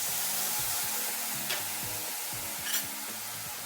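Spice paste with chili powder sizzles steadily in hot oil, being fried as a tempering for village-style Bengali khichuri, a continuous close hiss with occasional louder spits and a low background hum.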